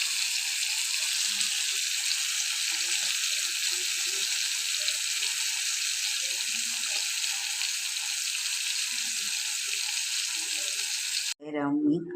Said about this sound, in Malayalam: കേരാച്ചൂര റെഡിയായി വരുന്നുണ്ട്. നല്ല തിളച്ച് നല്ല മൊരിഞ്ഞ് വരുന്നുണ്ട്.